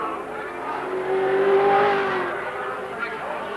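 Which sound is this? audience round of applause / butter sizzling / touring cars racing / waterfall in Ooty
touring cars racing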